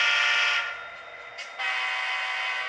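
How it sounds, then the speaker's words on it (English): A Tsunami2 sound decoder in a Kato SD90/43MAC model locomotive sounds a sustained electronic horn chord, loud and close, dipping briefly near the middle before resuming steadily to the end. "you could change the horns, so that way the horn is different between the two locomotives"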